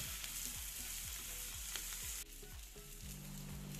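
Rasta pasta with veggies and ackee being stirred in a hot pan, a steady quiet sizzle under a rhythmic series of soft scraping strokes, with no talking.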